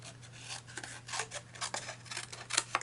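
Scissors cutting paper along a score mark while making a gift box: a quiet run of crisp snipping and rasping strokes, several short irregular cuts close by over a faint steady hum, no talk.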